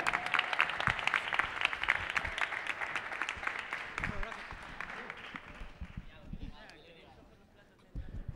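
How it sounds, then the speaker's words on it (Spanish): Audience applause at a DJ scratch battle contest as the winner is announced, clapping loud at first and thinning toward the end, with a voice speaking over it. "Un aplauso."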